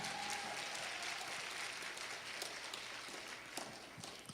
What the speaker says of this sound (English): Y'all give them all a round of applause.